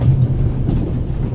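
Steady, loud train-ride ambience from the adventure game The Raven, a continuous low rumble of a moving railway carriage with faint rhythmic clatter and no speech.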